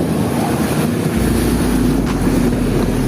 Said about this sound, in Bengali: panther water car